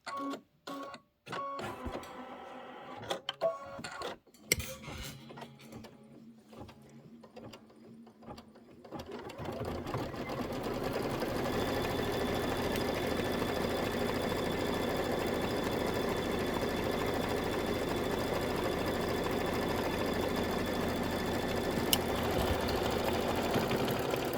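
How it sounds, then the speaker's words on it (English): An embroidery machine stitches down the top part of a crossbody bag: scattered clicks and short mechanical movements come first, then a steady, even stitching drone runs on without interruption for the rest of the time. "We're just going to go ahead and stitch, and it'll stitch the top part down"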